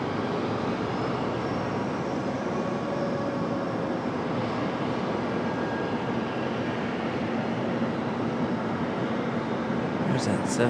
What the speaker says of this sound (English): Our next arrival is American 2390 coming in from Charlotte, A321. Going to be touching down right now.